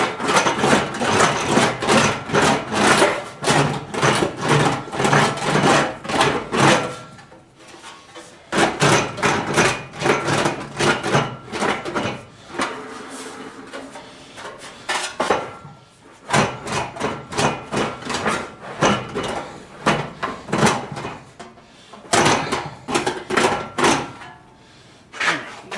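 Metal fender wells being hammered to knock out lumps and bumps, rapid bursts of loud, close ringing hammer blows in clusters separated by brief pauses, with faint shop noise between.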